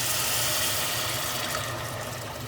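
Wine poured from a tiny bottle into a pan makes a steady, close liquid rush with a broad hiss that holds for the whole moment and eases slightly toward the end.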